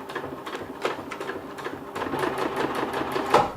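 A sewing machine stitches close along the edge of a silpoly rain skirt, running in steady mechanical bursts with brief pauses, loud and close throughout.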